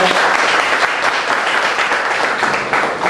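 A lecture audience gives a round of applause for the speaker, Jeong Tae-in, a thick, continuous crowd clapping held at a steady level from start to finish.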